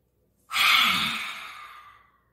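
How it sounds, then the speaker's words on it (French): One slow, deep breath out during a guided anger-release exercise, starting suddenly, then a long airy exhale that fades gradually over about a second and a half, close and clear against silence. "Inspirez, enroulez. Expirez."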